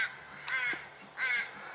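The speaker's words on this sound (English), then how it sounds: "he's just getting harassed by all these crows and God knows what else" Crows cawing over a beach while mobbing a large bird of prey, two distinct harsh caws about three quarters of a second apart, moderately near above a faint background hiss.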